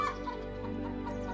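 A cartoon hen clucks in a farmyard scene, a soft run of short clucks over a steady tonal music or background bed, fairly quiet and heard without talking.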